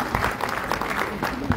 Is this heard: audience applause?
yes